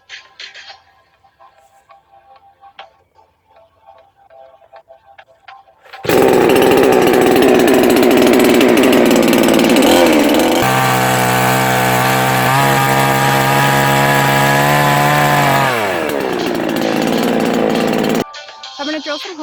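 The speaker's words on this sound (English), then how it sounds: "I'm going to drill some holes in the log." A power drill fitted with a 5/16 bit bores holes into a log outdoors, a loud, steady high-pitched whine running for about twelve seconds, shifting pitch partway through as the bit bites deeper, then winding down.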